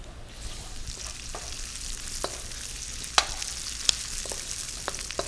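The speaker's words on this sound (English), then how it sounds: "I'm going to add the fresh oyster mushrooms to it. Give those a little stir, coat them with the oil" Oyster mushrooms and golden onions sautéing in oil in a pan, a soft continuous sizzle with a few sharp clicks of the utensil stirring, no talk.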